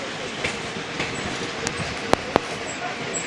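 Continuous rumbling of a train moving along rails, with two sharp metallic clicks from the wheels and faint voices in the background.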